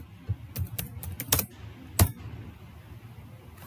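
Someone types a figure title on a computer keyboard, a handful of close, sharp key clicks in an uneven rhythm, followed by quiet.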